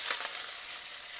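Chopped onions dropped into hot oil with popped mustard seeds, a steady bright sizzle with a few crackles at the start, close and continuous with no voices.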